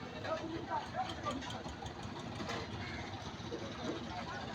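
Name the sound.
passenger trawler engine idling at fish landing ghat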